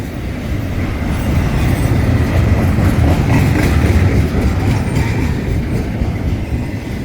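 A freight train rolls past on the tracks at close range near a desert ghost town on the Arizona–New Mexico border, a loud, steady rumble of wagons with faint clickety-clack and wheel squeal throughout.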